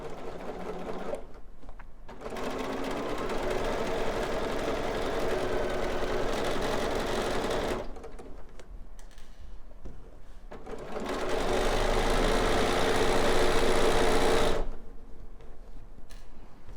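A sewing machine stitches along the edge of a mitered corner in two long, steady runs, with a short pause between them and a brief stop after the second. The whirring is close and clear, with no talk over it.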